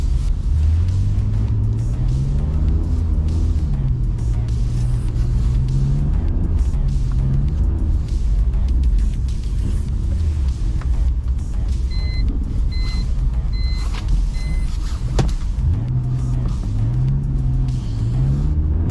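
A BMW E46 320i driven at night on a winter street in third gear, its engine droning loud and close with smooth rises and falls in pitch as it accelerates and eases off.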